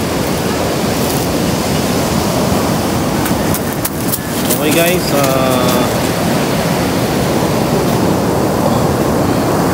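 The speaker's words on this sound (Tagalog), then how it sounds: "malakas yung alon" Strong sea waves at the seaside make a loud, continuous broadband roar of surf, and a voice speaks briefly partway through.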